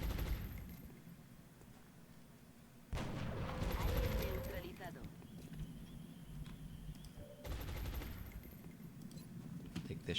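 A weapon shot fires in XCOM Long War, a sudden loud burst of gunfire around the midpoint that lingers briefly, with a second burst later over quiet game ambience and some talking.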